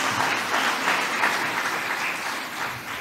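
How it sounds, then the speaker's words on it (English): Audience applause at a live Magical Kenya Signature Experiences event as a woman stands to be recognised; steady, dense clapping from a sizeable crowd throughout, with no talking over it. "let's clap for her"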